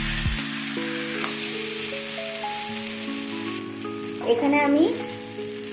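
Chicken fries in a generous amount of butter in a pan, giving a steady, close sizzle beneath a faint tonal hum, with a few brief spoken words near the end.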